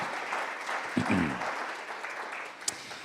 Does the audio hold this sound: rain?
no